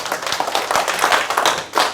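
Listeners at a Korean public lecture on feng shui clap together in a brisk, close burst of applause that stays loud and dense for a couple of seconds, with uneven slaps and no talking over it.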